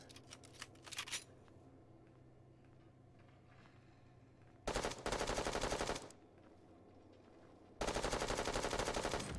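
Automatic rifle fire from an AR-LMG hybrid in the Bullet Echo mobile shooter comes in three rapid bursts, short at first then longer, over quiet game ambience.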